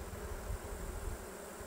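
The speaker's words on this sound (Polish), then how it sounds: "Jak widać, pszczoły się po prostu wylewają z tego ula." Honey bees pouring out of an opened hive during an inspection and honey harvest, a dense steady close buzz of many insects with no pauses and no voices.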